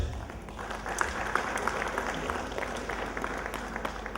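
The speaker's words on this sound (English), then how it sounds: "please give a round of applause to yourself" An audience at a valedictory speech claps together, a soft, steady patter of applause heard from a distance and fairly faint throughout.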